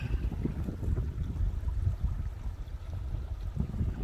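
Creek water flowing beside an outdoor future RC flying site, a steady low rushing and gurgle close to the microphone, mixed with wind buffeting and no talking.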